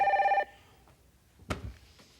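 A telephone rings on the set of a Québec TV variety show: one short, loud burst of bright bell tones, followed by a clunk and quiet room noise.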